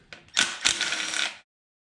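Ratchet backing out a valve cover bolt on a 2006 Mustang 4.0 V6: a single sharp burst of rapid metallic clicking lasting about a second, close by, then silence.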